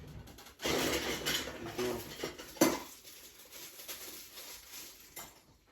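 A toothpick stirs lemon into a small batch of homemade natural body balm, giving light clinks and taps against the container, a louder stretch early on, then faint scattered ticks.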